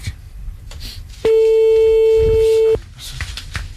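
Telephone call tone during a radio show, a single loud steady beep lasting about a second and a half, set between stretches of voices and studio noise.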